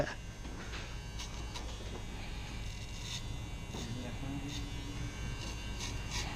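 Electric hair clippers buzz steadily through a taper fade haircut, a constant faint whine under low talk throughout.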